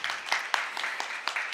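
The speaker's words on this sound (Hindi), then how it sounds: "तो जोरदार तालियों से इनका इस्तकबाल करें" Audience at a ghazal evening concert applauding with scattered, uneven claps, fairly soft and moderately close.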